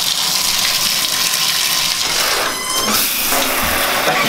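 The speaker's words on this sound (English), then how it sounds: "It's taking a shower." A steady, close gush of water sprays continuously from a shower or hose outdoors on a cross-country road trip near tall sand dunes, with a brief surge midway and no talking.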